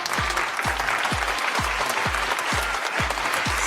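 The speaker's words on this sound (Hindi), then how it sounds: "आप लोगों की भरपूर तालियों में" An audience applauds to welcome the speaker Syed Haider Abbas Rizvi at a 23 March and Eid celebration show: steady, dense clapping with regular low thumps pulsing beneath it.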